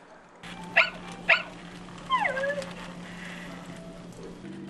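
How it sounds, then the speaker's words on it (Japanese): Sony aibo robot dog greeting hotel guests with two short synthetic barks followed by a sliding whimper-like tone, close and clear over a faint steady hum. "犬型ロボットのアイボ"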